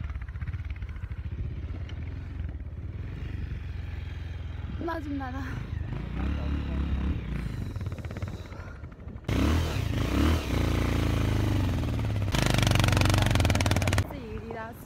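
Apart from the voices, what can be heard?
motorcycle riding on a rough road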